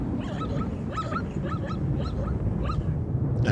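A lame zebra foal gives thin, feeble repeated calls, a series of short high whimpering cries over a steady low background rumble.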